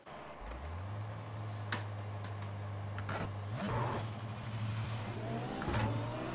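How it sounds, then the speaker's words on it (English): An Audi race car engine in the iRacing video game drones steadily and then revs higher through gear changes, loud and close, with occasional sharp clicks over the continuous hum. "that Audi just sounds like a pickup truck"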